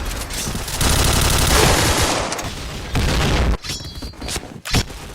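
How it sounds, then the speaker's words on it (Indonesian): Rapid bursts of gunfire from the video game Point Blank, loud and dense, with sharp cracks and booms trailing off into sporadic shots. "itu cuma suara game tembak-tembakan biasa."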